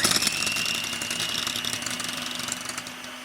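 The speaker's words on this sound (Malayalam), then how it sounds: "അതിനുവേണ്ടി ഞാനിവിടെ ഒരു ഹാൻഡ് മിക്സറാണ് യൂസ് ചെയ്യുന്നത്." A handheld electric mixer whirs steadily as it beats whipping cream for a no-bake chocolate cake, a continuous close, buzzing motor drone with rattling beaters running throughout, no voices.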